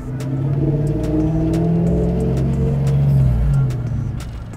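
A drift truck's engine revs and holds a steady, loud mid-range drone for several seconds, rising slightly before easing off near the end, with no talking over it.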